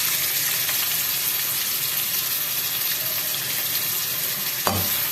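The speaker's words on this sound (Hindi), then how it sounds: "लहसुन और अदरक भी जो है अच्छे से इसमें फ्राई हो गए हैं तकरीबन" Garlic and ginger frying in a pan for a yellow chicken curry, a steady, dense sizzle throughout with a brief clatter near the end, close and fairly loud.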